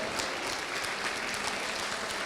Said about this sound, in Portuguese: Aplauso para nós